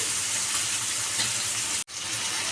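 Tender curry leaves hitting hot oil give a steady broadband sizzle that runs continuously, with one brief dropout near the end.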